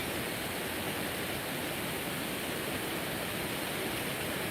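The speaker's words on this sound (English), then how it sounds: "I know you'll hear a little bit of this water" Steady, close water flow of a stream or small waterfall fills the whole stretch with a continuous broadband rush and no breaks, heard alone.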